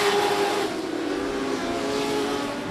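Dirt race truck from the Texas Dirt Truck Series at South Texas Race Ranch, a steady loud engine roar sustained without a break, heard close as the truck powers around the track.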